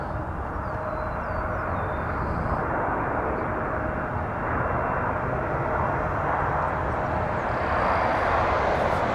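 A Cessna Citation 560 XL jet at Toronto Pearson airport gives a steady, broad engine roar at moderate distance, sustained throughout with no clear rise or fade.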